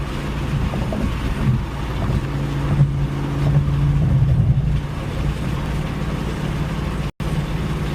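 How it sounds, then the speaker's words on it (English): A 2024 Ford Mustang GT with a 5.0 V8 cruises along with a low, steady engine rumble under road and wind noise and a brief dropout near the end. "Thing about this car, it runs so smooth lately."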